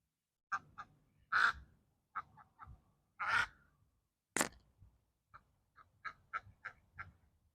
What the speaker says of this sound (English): you'll hear a duck quack